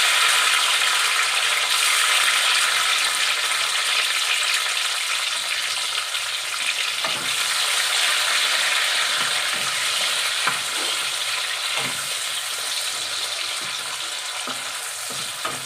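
Chopped tomato pieces fry in oil in a kadai, making a loud, steady sizzle with occasional spoon knocks and scrapes against the pan.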